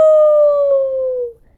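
A dog gives a single long, loud, close howl that holds one steady pitch and slides slightly downward before cutting off.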